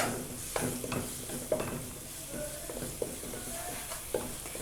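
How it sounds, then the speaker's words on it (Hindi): Garlic paste browning in oil in a home kitchen pan, a soft steady sizzle with occasional stirring clatters at regular intervals, moderately close, no talking. "ऑयल में हम डालेंगे 1 टेबलस्पून लहसुन का पेस्ट। लहसुन के पेस्ट को हम हल्का सा ब्राउन करेंगे।"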